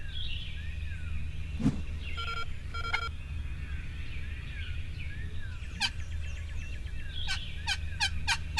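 A wild turkey gobbler gobbles in the distance outdoors, several short rattling bursts spaced apart over a steady low rumble of background noise.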